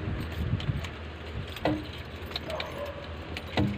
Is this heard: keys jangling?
yes